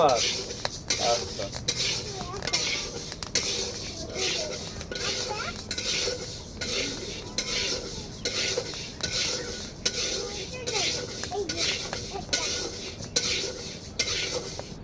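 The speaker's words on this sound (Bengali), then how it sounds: "এবার এই ডালটাকে অল্প আছে নেড়ে চেড়ে ভেজে নেব" Golden moong dal dry-roasts in a pan while a metal spatula stirs it, giving repeated scraping and clinking strokes in a steady rhythm, close and fairly loud, with a faint sizzle underneath.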